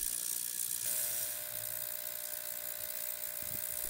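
A cheap ultrasonic cleaner runs a carburetor cleaning cycle, giving off a steady, even electric hum and whir that holds at a constant level throughout, with no voices.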